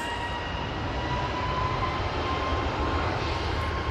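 A Ryanair Boeing 737 MAX 8 on its takeoff roll at Manchester Airport gives off a steady, moderately distant jet roar with a faint whine, unbroken for a few seconds and with no voices.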